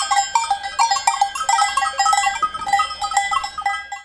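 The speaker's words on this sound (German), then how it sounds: "Man hört's am Tingeln, die Geißen, die Ziegen kommen wieder." Goats wearing bells on an alpine pasture at Pragel Pass in Schwyz, Switzerland, approaching with a steady, busy tinkling of many small bells that rings continuously and fairly close.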